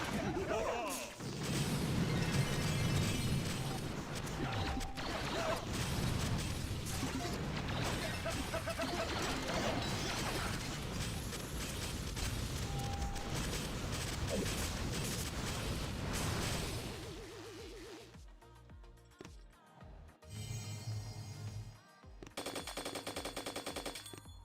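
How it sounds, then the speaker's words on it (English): Dense, sustained machine gun fire roars through a video game battle against a mega crab, with crashes and explosions mixed in, then breaks into choppier bursts near the end. "It's a lot of machine guns."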